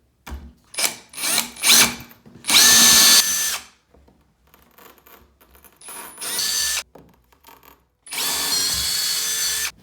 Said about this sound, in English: So after you mark your holes, go ahead and drill them.